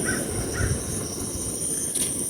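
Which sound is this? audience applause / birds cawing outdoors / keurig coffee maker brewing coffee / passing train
birds cawing outdoors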